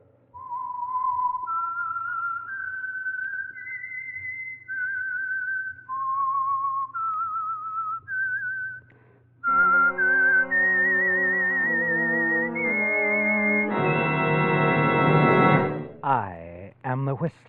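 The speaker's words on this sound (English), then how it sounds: "the signal to listen for is this whistle that identifies the Signal Oil program" The whistled theme tune of The Whistler radio mystery program is a lone melodic whistle of rising and falling notes, followed by loud brassy orchestral chords that swell and end abruptly.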